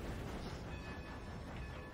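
A steam train rolls along in a Wild West video game, a steady low rumble of wheels and carriages running continuously and fairly loud, with no distinct horn or whistle.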